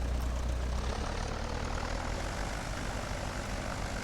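Propeller airplane engine in a flight simulator game drones steadily and loudly for a few seconds, a constant low throbbing hum with no talk over it.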